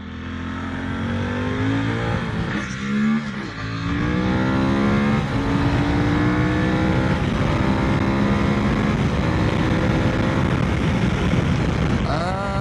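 A KTM motorcycle engine runs steadily and loud for the whole stretch, a strong buzzing drone with rising and falling revs and a short dip near the start. A voice is faintly present underneath.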